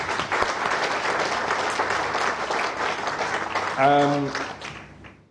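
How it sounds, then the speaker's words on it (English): A room of guests at a Foreign Office dinner honoring ambassadors gives a steady round of applause, dense clapping held for several seconds with a voice briefly rising over it near the end before it fades. "a round of applause for all of them"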